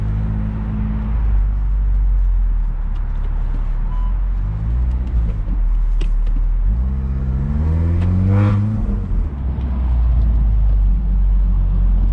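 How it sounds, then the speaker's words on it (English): An Audi S3 with a burble tune revs and accelerates in sport mode with a throaty exhaust note, windows down, the pitch climbing through gear changes, loud and close throughout. "roll down the windows just so you guys can get a little bit more exhaust clip"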